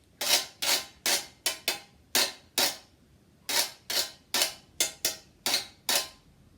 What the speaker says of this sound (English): I've gone for a classic, a cheese grater and a salad sort of tongs